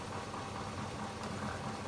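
A parked car's engine idles with a steady, even mechanical drone and a faint vibrating rattle, close and constant, with nobody speaking.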